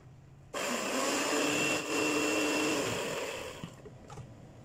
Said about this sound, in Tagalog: Dahil may blender tayo, mag-blender tayo.